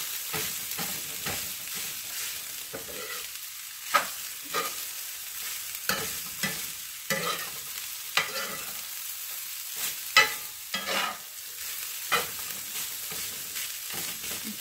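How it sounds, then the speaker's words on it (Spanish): Rice with cilantro is stirred and toasted in a pan for Costa Rican gallo pinto, a soft ongoing sizzle broken by repeated scraping strokes and light spoon knocks. "Y lo vamos a mezclar para que todo el sabor del cilantro lo pueda adquirir el arroz."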